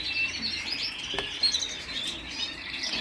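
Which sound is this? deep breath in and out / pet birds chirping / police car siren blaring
pet birds chirping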